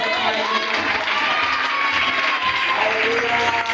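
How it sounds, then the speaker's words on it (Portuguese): A church congregation bursts into loud applause during a testimony service, many hands clapping steadily with cheers and shouts mixed in throughout. "Uma salva de palmas."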